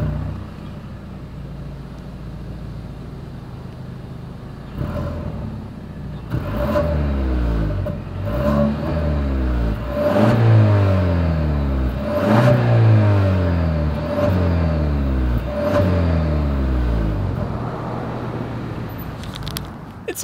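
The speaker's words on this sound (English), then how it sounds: "As always, here is that exhaust clip." Engine of a 2021 Genesis G80 sedan revved repeatedly from the exhaust, a run of rising and falling throttle blips with a deep droning note, idling before and after the loud middle section.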